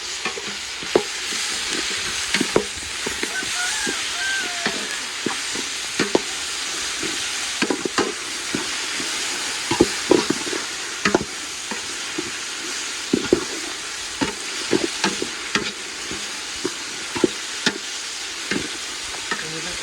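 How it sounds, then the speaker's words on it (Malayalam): Curry leaves fry in oil for chicken curry while a spoon scrapes and stirs the pan, steady loud sizzling broken by frequent sharp clinks and scrapes throughout, no one speaking. "ഇത് നമുക്ക് നല്ലപോലെ ഒന്ന് ഇളക്കി കൊടുക്കാം"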